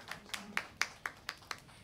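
Scattered, sparse handclaps in a quick, steady rhythm, faint and somewhat distant, applause for a singer at a live performance.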